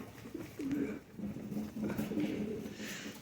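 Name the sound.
pigeons cooing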